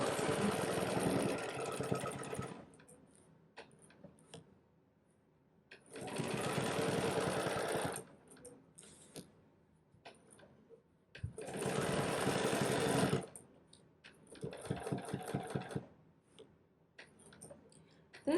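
A sewing machine stitches in four separate bursts of free motion ruler quilting on an echoed square design, each run lasting a couple of seconds with quiet pauses and light clicks between them, close and clear.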